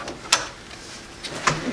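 A front door with a newly installed lock and strike plate swings shut, with two sharp clicks of the latch about a second apart, close and fairly loud.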